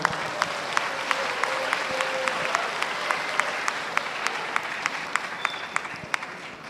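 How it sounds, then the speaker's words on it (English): Audience members at a university lecture applaud speaker Pak Andika, a dense, even round of clapping with a few sharp individual claps standing out, continuing throughout. "please give a warm round of applause to Pak Andika once again."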